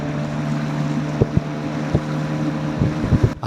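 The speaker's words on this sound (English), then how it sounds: "It was a fabulous experience to ride these longboats" A longboat on a river ride to a traditional Iban longhouse, with a steady engine drone and wind rushing past, broken by a few soft knocks and splashes.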